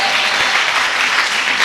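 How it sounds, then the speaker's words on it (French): A church congregation at a French-language worship service claps vigorously and continuously, a thick, loud wall of applause with no pauses. "On applaudit le Seigneur puissamment."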